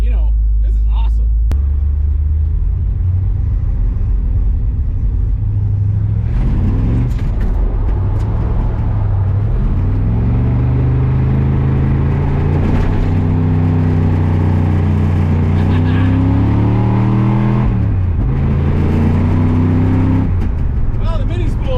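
A truck with a 400ci small block Chevy and a mini spool revs loud and close in rising, falling engine pulls as both tires spin, with a deep rumble throughout and a voice talking over it.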